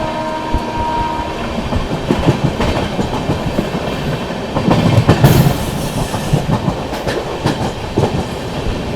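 The 12313 Sealdah–New Delhi Rajdhani Express running at speed, a loud continuous rumble with rhythmic clickety-clack of wheels over rail joints and a brief surge of wheel noise midway, heard close from aboard.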